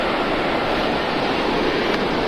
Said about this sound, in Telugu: పక్కనే ఉంటుంది వాటర్ ఫాల్స్.